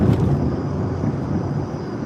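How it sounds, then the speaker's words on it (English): Broad, steady low rumble of an airplane passing overhead outdoors, continuous throughout with some wind noise on the microphone and no talking. "Is that a plane?"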